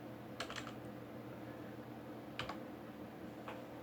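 Faint keystrokes on a computer keyboard while entering a formula into an Excel spreadsheet: a short burst of clicks, then another pair, then a single tap, over a quiet room hum.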